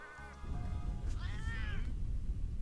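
A cat in Monster Hunter 3 Ultimate gives a clear, close meow that rises and falls in pitch over a low background hum.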